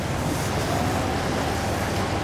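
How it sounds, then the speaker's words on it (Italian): Steady broadband wash of water waves lapping around a gondola on a Venice canal near the Rialto, continuous and fairly loud, with a windy rush and no clear voices. "Qui con le onde."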